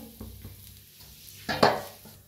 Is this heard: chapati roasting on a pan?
yes